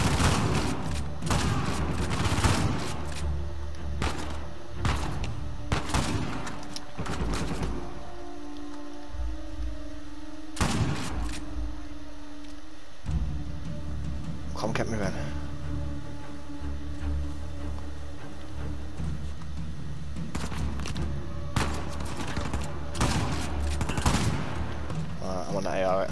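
Rifle fire in Uncharted 4, sharp repeated shots in irregular bursts over game ambience, with a quieter stretch between volleys and sounds of rain or debris around them.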